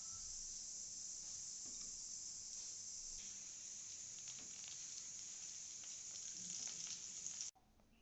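Oil and a spoonful of butter sizzle steadily in a kadhai, a continuous bright hiss with faint crackles that holds evenly for several seconds before cutting off abruptly near the end.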